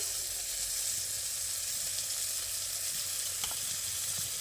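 Mustard paste hits hot oil with cooked spices for a Bengali fish curry, producing a steady, loud, close hiss of sizzling that runs unbroken throughout, with a faint utensil tap near the end and no speech.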